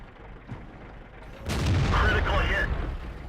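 A tank cannon fires in World of Tanks, heavy FV4202 action: a sudden loud blast with a rolling roar that lingers about a second after a quieter stretch, game sounds and faint voice around it.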